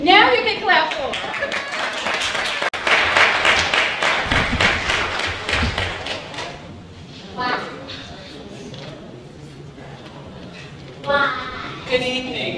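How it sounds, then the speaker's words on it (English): Audience clapping at a Head Start sneaker ball in a hall, a burst of many hands rising and then thinning to scattered claps, with people talking over and around it. "Now you can clap for her."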